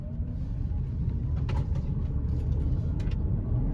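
A Chrysler Pacifica Hybrid pulls away from a stoplight, a steady low road and motor rumble heard from inside the cabin with a faint rising whine and a few light clicks.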